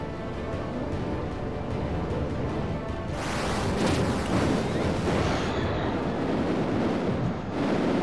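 A blast goes off in the video game Arietta of Spirits, with a low rumbling roar that swells suddenly partway through and lingers as a loud, noisy wash to the end.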